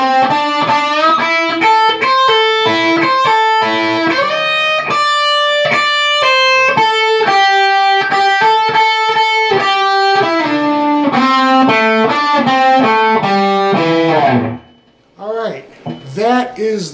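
Distorted electric guitar plays the solo: loud, sustained bent notes and quick melodic runs. It breaks off near the end into a brief pause and a few short picked notes.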